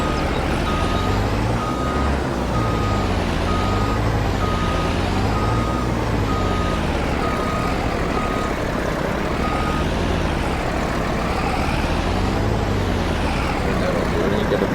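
A farm truck reversing on a row crop farm at harvest time, its steady, evenly spaced backup beeps sounding loud and close over a rumbling engine that rises and falls, continuing for about fifteen seconds.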